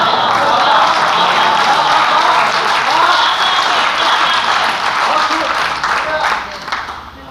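Loud, sustained applause from the audience at a Hindi poetry recital (kavi sammelan), many hands clapping steadily and then tapering off near the end.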